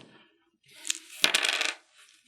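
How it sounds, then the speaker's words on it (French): Dice for the board game Dark Rituals: Malleus Maleficarum are rolled, giving a short burst of hard clattering and rattling with a few sharp clicks as they tumble and settle. It is close and clear, with no talk. "je vais simplement dépenser 2 énergies et lancer les dés correspondants"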